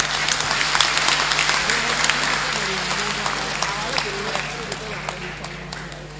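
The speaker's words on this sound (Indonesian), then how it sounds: "Kita berikan aplaus sekali lagi" A large audience at a party political gathering applauds in a continuous dense wash of clapping that holds steady and loud throughout, with faint crowd noise beneath.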